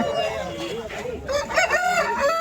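A rooster at a Sunday poultry market in Vijayawada crows loudly and close, with a drawn-out call and a second crow overlapping clucking and market noise.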